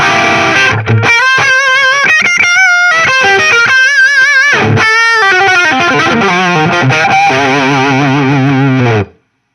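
Electric guitar played through a Fender Duel Pugilist distortion pedal, high-gain strummed chords with sustained, saturated notes ringing loud and close, alone with no talk.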